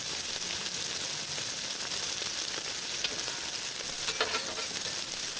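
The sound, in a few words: marinated chicken sizzling on the grill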